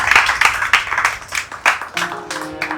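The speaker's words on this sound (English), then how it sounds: "Can we get another round of applause for Stella, for Pelumi, for yourselves?" An audience at a community networking event in Dubai claps in a brief round of applause, uneven bursts of hand claps rising and falling for a few seconds, with a faint tone entering near the end.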